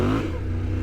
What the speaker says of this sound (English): ride along in first gear, gas it and chop the throttle